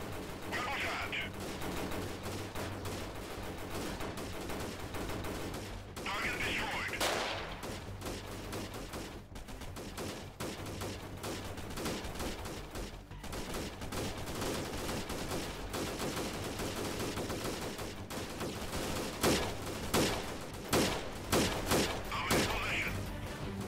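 Constant gunfire from the video game Freeman Guerrilla Warfare, with bursts of rifle and machine-gun shots packed densely throughout a heavy firefight, some single shots cracking close by.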